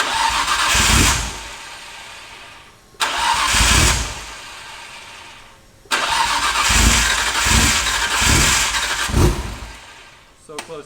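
A Nissan R34 GTR engine that is missing many parts cranks and tries to fire on its first start, in three separate bursts of loud mechanical churning with sputtering, pulsing catches near the end, close by.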